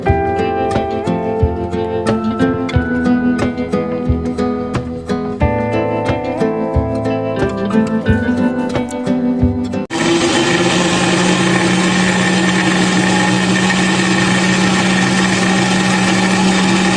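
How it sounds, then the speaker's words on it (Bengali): An electric blender whirs with dragon fruit pieces in the jar, its loud, steady roar starting midway after a stretch of background music and then running continuously. "এবার আমি এগুলা টুকরো করে কেটে আমি একটা ব্লেন্ডার জারে নিয়ে নিব।"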